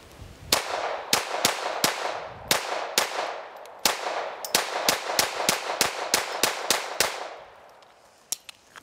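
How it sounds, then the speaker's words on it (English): A Keltec P17 .22LR pistol fires rapid shots at steel plates outdoors, a fast run of sharp cracks with ringing metallic hits, close and loud, then a pause and a couple of final shots. "I'm gonna hit the large plate there, transition to the middle plate, over to the farther plate."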